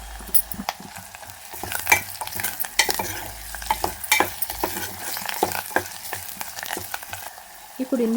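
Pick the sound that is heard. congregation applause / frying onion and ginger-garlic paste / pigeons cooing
frying onion and ginger-garlic paste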